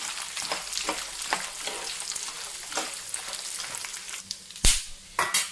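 Peanuts and cashews fry in hot oil in a pan for lemon rice, a steady crackling sizzle with scattered pops and a few louder scraping stirs near the end.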